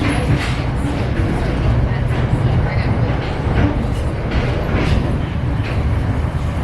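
A PATH train passes through New York City, a steady low rumble and rolling rail noise that holds throughout, loud and close, with voices talking over it.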